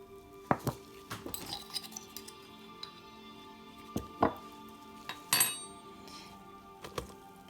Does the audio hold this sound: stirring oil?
yes